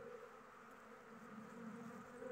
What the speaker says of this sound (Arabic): شوف هذا راه نحل سارق يدخل من جهة